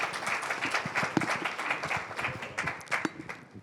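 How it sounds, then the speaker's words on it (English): An audience applauds a panel of AI startup speakers at the close of a discussion, a dense, steady patter of many hands clapping for several seconds, moderately distant and quiet with no voices over it. "Give a round of applause"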